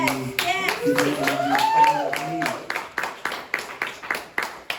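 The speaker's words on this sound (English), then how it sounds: "clapping is fine with me" A voice is heard at first, then an audience at a live performance breaks into rhythmic, evenly spaced clapping, fairly close and clear, continuing to the end.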